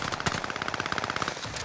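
Gunfire in the Call of Duty video game comes as a rapid automatic burst of closely spaced shots, loud and continuous for under two seconds, with no voices.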